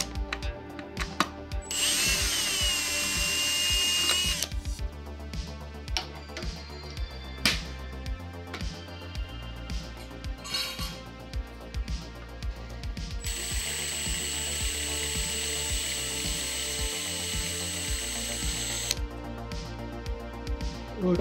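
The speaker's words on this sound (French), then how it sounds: "manier les perceuses comme ça" A power drill runs in long bursts during work on a Nissan 350Z, with whirring motor tones and ratcheting, mechanical clicks between bursts, loud and close.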